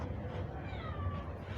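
A cat meows, a drawn-out, wavering cry that rises and falls, heard close over a low household background hum.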